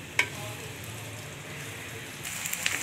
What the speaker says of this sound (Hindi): अब हम इसमें 2 बारीक कटे हुए प्याज डाल देंगे